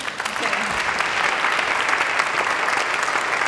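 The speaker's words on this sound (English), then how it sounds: "keep that applause going" Sustained audience applause at an on-stage event as a new speaker is welcomed, a loud, dense and continuous clapping crowd that holds steady throughout, with some voices mixed in underneath.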